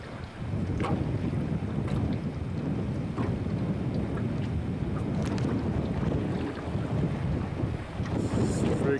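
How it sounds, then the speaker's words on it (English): Rough waves slap and churn around a small boat while strong wind buffets the microphone in a steady, loud roar, with low rumbling water filling the whole scene and no clear speech. "The waves are really bad right here."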